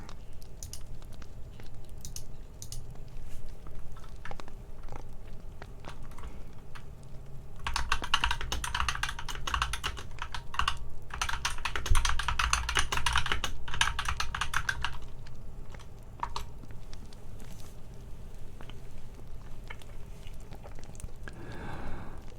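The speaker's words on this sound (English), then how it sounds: "Here's some typing." Close, steady typing on a computer keyboard with fast, irregular key clicks; it grows louder and busier through the middle stretch, then settles back to a lighter patter.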